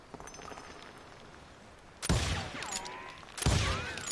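Gunfire in the western video game Call of Juarez: Gunslinger, two loud, booming shots about a second and a half apart, each with a rolling, echoing tail, after a quiet stretch of faint ambient rustle.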